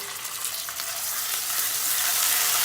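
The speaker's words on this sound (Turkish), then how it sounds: "Domates salçamızı da iyice bir yakacağız." Tomato paste frying in hot oil with burnt garlic, a steady close sizzle that grows slightly louder, with faint stirring.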